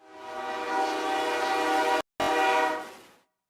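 A train horn sounds in a sports show's intro, a long, loud, steady blast over rail noise that cuts out for an instant and returns before fading to silence.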